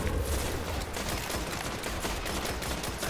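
Dense, continuous gunfire and battle noise in the sci-fi shooter Destiny during an Iron Banner match, a steady loud wash of overlapping shots and effects with no pauses and no speech.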